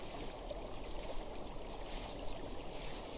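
A river pouring down as a waterfall, a steady trickling, splashing stream sound effect at moderate distance with no voices.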